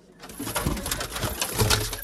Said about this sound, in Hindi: दो कबूतर, तीन कबूतर है इसमें अपने